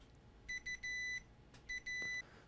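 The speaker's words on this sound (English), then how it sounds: "If we go to continuity mode so we can hear the beep." A multimeter in continuity mode beeps in two bursts, each a couple of short chirps followed by a longer steady tone, clear and close.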